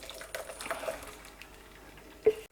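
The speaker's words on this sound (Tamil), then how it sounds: "இப்போ ஜூஸை நம்ம வடிகட்டிக்கலாங்க." Blended carrot juice sweetened with honey is strained in a home kitchen, giving a faint, soft liquid trickle with light handling noises and a brief, sharper splash near the end.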